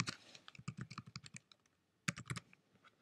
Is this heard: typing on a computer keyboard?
yes